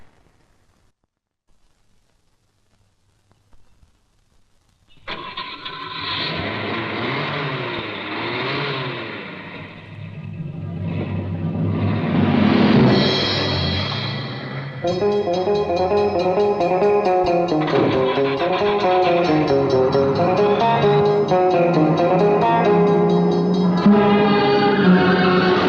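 A car engine starts up and roars loudly as the vehicle accelerates and drives fast, the revving rising and sustained with dramatic music layered over it, no talking.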